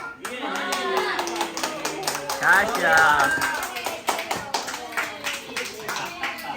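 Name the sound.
clapping hands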